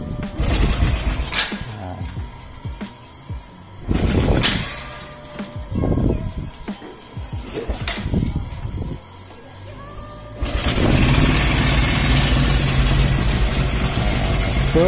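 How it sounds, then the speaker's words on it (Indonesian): A Modenas C1000Z motorcycle engine sputters through several short bursts of cranking and revving before catching and settling into a steady, loud idle, heard up close. "So sekarang ni motor C1000Z pun dah hidup dengan jayanya."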